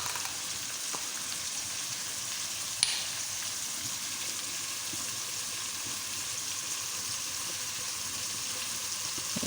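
Ground tomato goes into a hot pan of arvi gosht, setting off a loud, continuous sizzle and frying hiss with one brief clatter near the start, no voices.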